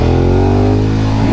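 A racing motorcycle at a road race in Lamego gives a loud, close engine note that holds steady and then falls in pitch as it revs down, filling the whole short burst without speech.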